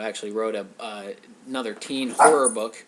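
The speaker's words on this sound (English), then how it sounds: "That's my dog, Tommy." A pet dog named Tommy barks in short, yappy bursts at close range, mixed in with someone talking steadily.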